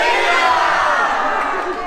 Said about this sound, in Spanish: Un aplauso para nuestro amigo Arjona